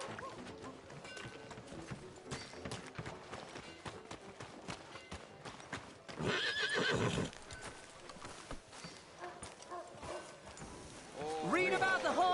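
A horse's hooves clip-clop and a loud whinny rings out amid busy background noise, with voices talking throughout.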